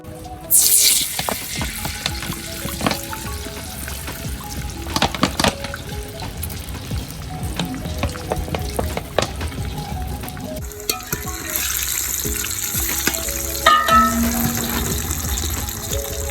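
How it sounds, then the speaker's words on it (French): Steady frying sizzle of plantains in hot oil, crackling and spattering continuously up close, with occasional clinks and stirring sounds throughout. "je vais rajouter de l'huile pour terminer la cuisson des plantains dans la friture avec le rouge"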